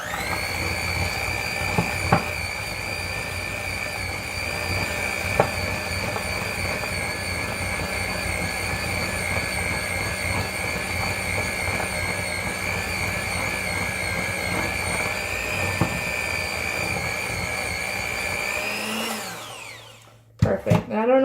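Electric mixer whirring continuously while mixing chocolate chip cookie dough, a loud, steady motor whine close by that runs for about twenty seconds before winding down, followed by a few clunks.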